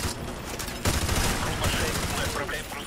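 Dense gunfire from the game Call of Duty: Modern Warfare 2 Remastered rattles in a continuous, loud barrage, intensifying about a second in, with a voice briefly speaking over it.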